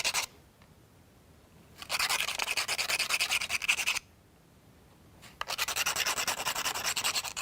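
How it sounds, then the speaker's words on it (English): Burrs are filed or rubbed off V8 engine valve parts during assembly of a U-9 Grand Prix car, two bursts of steady close scraping strokes separated by quiet pauses, with no talking. "turn it a bit and remove burrs to ensure smooth movement and operation of the"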